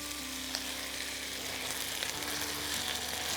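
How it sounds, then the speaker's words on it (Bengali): Chicken sizzles steadily in hot oil for a traditional Bengali smoked mango chicken dish, a dense continuous frying crackle with a low hum underneath and no talk. "এটা থেকে কিন্তু দেখো তেল বেরোচ্ছে। চিকেনটা প্রায় ভাজা হয়েও গেছে।"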